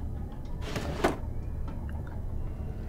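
Inside the Black Sails video game, a cupboard door opens with a brief sliding creak and a soft thud, one short event over a steady low ambient hum.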